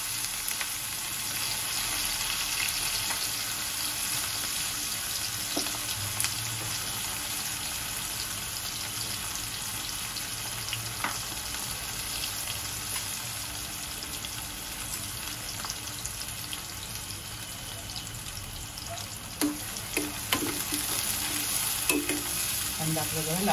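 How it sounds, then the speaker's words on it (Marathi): Finely chopped onion frying in a pan with cinnamon, a continuous close sizzle broken by repeated clinks and scrapes of stirring, growing busier toward the end, with no talking. "आणि थोडा आपण आता त्याच्यावर कांदा घालूया।"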